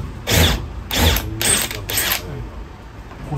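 A cordless power drill bores a pilot hole in a new Toyota HiAce van being fitted out, four loud bursts of whirring motor with short pauses between, up close.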